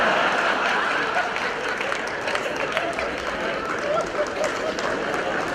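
Audience applause and cheering at an Urdu mushaira poetry recital, a dense, steady wash of many hands clapping throughout, loud and continuous with crowd noise mixed in.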